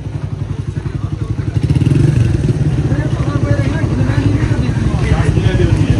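A motorcycle engine chugs nearby with a rapid, steady thumping beat that grows louder around two seconds in and holds, while voices talk over it.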